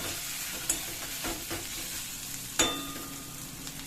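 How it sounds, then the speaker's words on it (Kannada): A spoon stirs garam masala through food in a frying pan, scraping with a couple of sharp knocks over a soft, continuous sizzle, close and moderately quiet. "ಸ್ವಲ್ಪ ಮಿಕ್ಸ್ ಮಾಡ್ಕೊಂಡ್ಬಿಡಿ."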